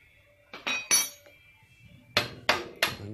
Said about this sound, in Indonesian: lalu diketok-ketok dengan palu dari sebelah kiri atau menggunakan tangan kiri